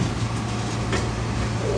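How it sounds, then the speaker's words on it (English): A refrigerator rail car in a train at Baldwin, Florida, its refrigeration unit running with a steady, loud, low mechanical hum and rumble, constant throughout the clip with no voices. "Is this a refrigerator car? Is that why it's making that noise?"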